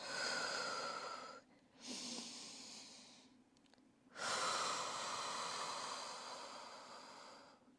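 Slow breathing during a Pilates child's pose, two long airy exhales separated by quiet pauses, close and soft with no talking.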